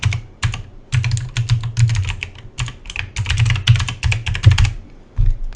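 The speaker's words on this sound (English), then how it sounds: "We're going to type in a bucket name" Rapid keystrokes on a computer keyboard while entering a name into a cloud storage console, close and crisp, coming in uneven bursts with brief pauses and no talking.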